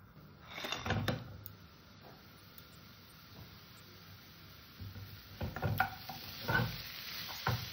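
Coconut filling for patishapta stirred in a wok over a low gas flame, a soft scraping swirl with light sizzle, quiet and close, with a few louder scrapes and no talk.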